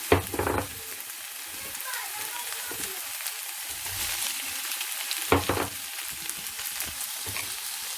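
Bacon and onion fry in a pan with a steady, hissing sizzle, joined by a few louder stirring scrapes near the start and again midway.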